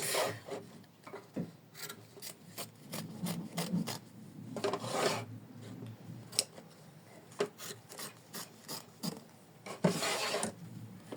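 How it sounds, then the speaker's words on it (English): Scissors trim an embroidered heart from an embroidery hoop, with close, quiet snips and rasping cuts through fabric and stabilizer coming in irregular clusters with brief pauses. "trim our heart from the front and back of the hoop"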